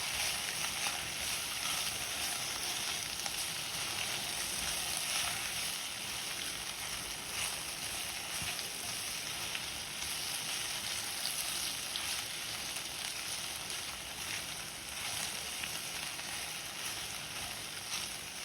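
Pasta tossed with masala fries in a pan, giving a steady, even sizzle that runs unbroken and fairly quiet throughout, with no talking.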